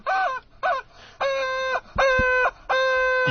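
A squeezed rubber chicken toy lets out a series of loud, strained honking squawks, five bursts in a row, the later ones longer and more sustained, close up with no talking over them.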